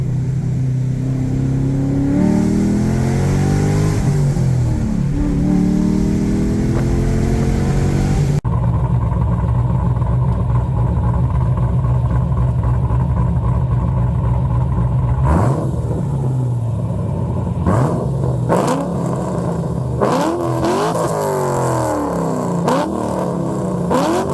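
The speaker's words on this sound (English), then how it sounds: "let's go to a spot where I can get some outside rev clips and maybe a drive-by for you" Cadillac CTS-V with a new exhaust revving outside: a loud, close, continuous V8 rumble with repeated rising and falling rev sweeps.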